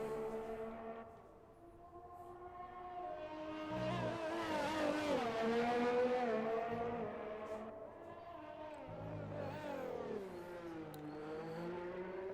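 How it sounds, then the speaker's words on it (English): Engine whine of an F1 race car in a video game during a United States Grand Prix race, rising in pitch as it approaches, peaking loud near the middle and fading as it passes toward the finish line, with a steady whine continuing after. "And Colton, last car to come round."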